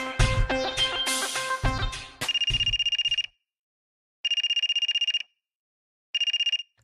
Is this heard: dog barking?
no